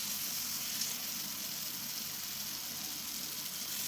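Spice paste of ginger-garlic and green chilli paste with a little salt fries in a pan, giving a constant close hiss and sizzle with no voices.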